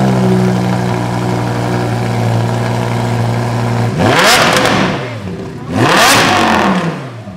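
Lamborghini Huracan supercar with a handmade Ryft X-pipe exhaust and velocity loops, first holding a loud steady idle, then blipped through two sharp, close revs that rise and fall back, with no talking.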